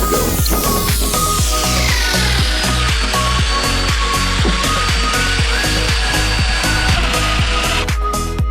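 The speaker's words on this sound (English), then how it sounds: "here's a little preview of how our domino tool works" A domino power tool cuts a groove into an oak decking board, giving a loud, steady high-pitched motor whine over a fast, regular cutting chatter that runs without pause.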